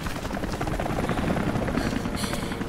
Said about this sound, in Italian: Mi sa che quello è l'elicottero che ci stava sparando nello scorso episodio